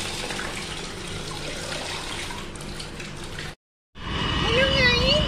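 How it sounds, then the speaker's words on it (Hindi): Tap water runs steadily into a container, a loud rushing flow that stops briefly and then resumes with a rising, filling tone. "थोड़ा पानी भर दे रहे हैं"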